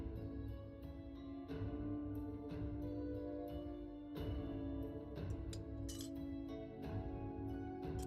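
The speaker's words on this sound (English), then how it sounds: "I'm sorry if you hear the clinking sound of my straw." Metal straw clinking against a glass of water, light sharp chinks scattered through the clip over a steady low hum, fairly close and quiet.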